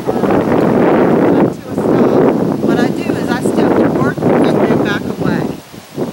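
Strong outdoor wind buffets the microphone in loud gusts around a young Tennessee Walking Horse during lunging practice, with a person speaking over the roar.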